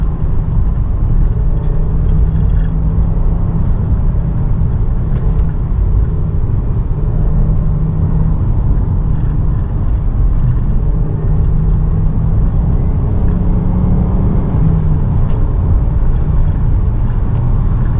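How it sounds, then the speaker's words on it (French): Ford S-Max 2.5T Titanium minivan with a turbocharged five-cylinder engine, heard from inside as a loud, continuous low rumble and drone while driving, no talk. "Je vais laisser un peu profiter du bruit du 5 cylindres."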